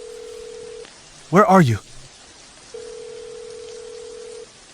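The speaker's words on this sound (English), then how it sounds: "Number dialed is switched off." A phone call to a switched-off number produces a steady electronic tone that breaks off and then resumes, while a voice briefly speaks in the gap over a faint background hiss.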